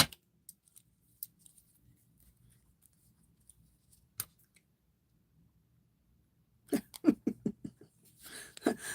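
Scissors snip in a quick run of sharp, close clicks near the end, after long near-silence broken only by a few faint taps.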